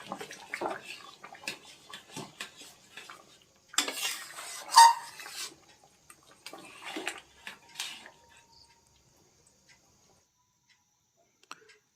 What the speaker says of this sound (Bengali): ধনেপাতাটা দিয়ে একটু সুন্দরভাবে নেড়ে দেব আমি